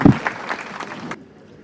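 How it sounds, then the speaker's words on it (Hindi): Short burst of crowd applause at an Urdu mushaira welcoming a poet, loud at first and then tapering off before cutting to quiet. "भरपूर तालियों में इनका इस्तकबाल कीजिए"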